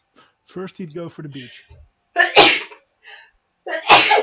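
A sharp sneeze bursts out twice during a tabletop Dungeons and Dragons session, loud and close, following a man's spoken line.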